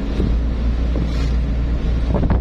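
Strong wind buffets the microphone with constant low rumbling gusts, mixed with the steady drone of a fishing boat on open water.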